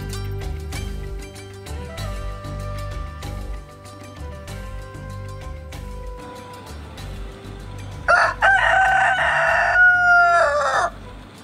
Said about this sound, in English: We also visited the kitchen garden and the chicken coop.